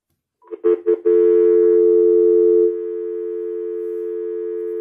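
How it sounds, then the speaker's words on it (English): An odd telephone line tone, a few short broken beeps followed by a steady sustained tone that drops slightly in level midway and continues alone to the end, loud and close. "The phone did a funny thing"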